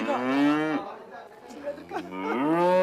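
A cow moos close by in two long, drawn-out calls with a short pause between them, heard alone without talk.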